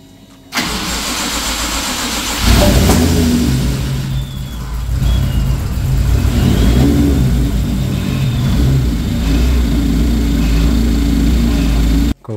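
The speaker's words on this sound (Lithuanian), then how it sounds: "Užvedimas buvo toksai neaiškus, užvedėm, dirba variklis." A BMW E92 car with a freshly rebuilt engine cranks, catches and starts, then idles and revs steadily, loud and close for about twelve seconds.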